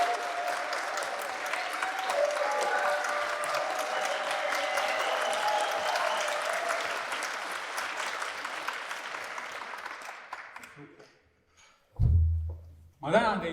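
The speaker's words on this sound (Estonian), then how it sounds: "teeme aplausi Essu mõisa perenaistele" Audience applause fills a gathering at Essu manor in Estonia, a dense sustained clapping that swells for about ten seconds, then fades out with a brief pause before a couple of low thumps near the end.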